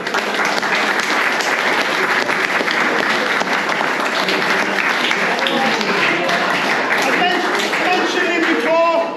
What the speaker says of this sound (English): But it still needs another round of applause.